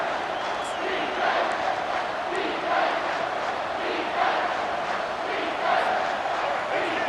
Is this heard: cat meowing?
no